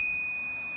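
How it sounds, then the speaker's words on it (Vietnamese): A Shimano brass bicycle bell gives a short, clear, high ring that lingers briefly with a pulsing shimmer, heard close and alone. "Chuông này là chuông đồng"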